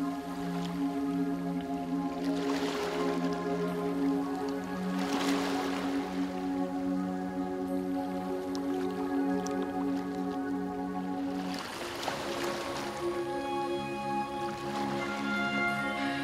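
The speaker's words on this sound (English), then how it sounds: "Tune in to the melodic harmony of the waves, the chorus of birds, and the gentle rustling of leaves." Slow Australian ocean waves wash in and out in soft, broad swells every few seconds, layered under a steady, sustained musical drone in a calm meditation soundscape.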